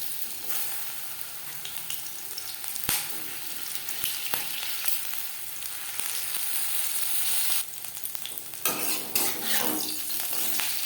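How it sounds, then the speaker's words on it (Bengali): Marinated okra (bhindi) fries in three spoons of hot refined oil, producing a continuous bright sizzle with intermittent clinks and scrapes of a utensil against the pan, growing busier toward the end; no voices. "ভেন্ডি ভাজবার জন্য তিন চামচ রিফাইন্ড অয়েল গরম করে নিয়েছি এবার দিয়ে দেব ম্যারিনেট করে রাখা ভেন্ডি"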